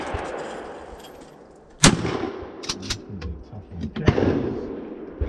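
Sharp shotgun blasts ring out at a clay target shoot, two loud reports a couple of seconds apart with echoing tails, amid faint outdoor background and a few quiet voices.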